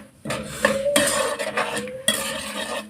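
Rice being stirred and mixed in a metal pan, with repeated scraping and clinking of a spoon against the pan, steady and close, with no talking.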